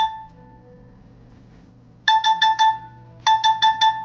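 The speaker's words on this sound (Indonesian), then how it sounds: "kalau kalian ngecas, kalian cabut, handphonenya bakal bunyi kayak gini" Infinix GT 30 Pro theft alert alarm going off after the charger is unplugged: two bursts of four sharp, bright electronic beeps each, loud and close, over a quiet background.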